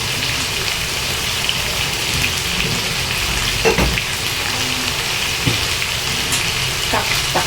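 Vegetables sizzle steadily in a hot pan for lunch, a dense crackling hiss throughout with a few louder scraping stirs and pops, close and fairly loud, no talking.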